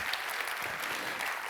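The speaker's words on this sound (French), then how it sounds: "Il faut applaudir ce geste." A brief, fairly faint burst of applause from an audience at a speaking event, an even wash of many hands clapping with no voices over it.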